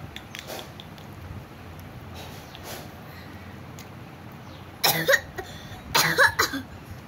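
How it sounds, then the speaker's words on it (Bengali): Two short bursts of coughing sound up close near the end, after a quieter stretch of faint background noise and small clicks. "বাবা কাশিস না"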